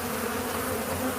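Agitated honey bees swarm around a hive built into a fifth-wheel trailer, a dense, steady buzzing drone close by and unbroken throughout.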